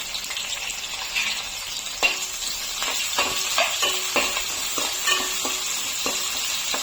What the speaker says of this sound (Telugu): నెక్స్ట్ ఇప్పుడు ఈ ఆనియన్స్ అన్నీ వేసేద్దాం కొంచెం హై ఫ్లేమ్లోనే మటన్ ఫ్రై అవ్వనివ్వాలి